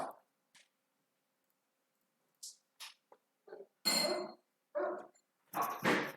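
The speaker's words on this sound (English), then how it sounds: "Don't bark, bud." A dog gives a few short, scattered barks nearby, separated by silence, with faint clicks and clinks between them.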